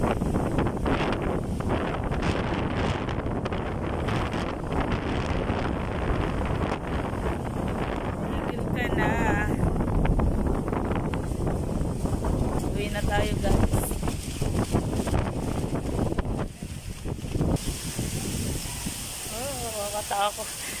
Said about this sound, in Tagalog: Naramdaman talaga ang lakas ng hangin.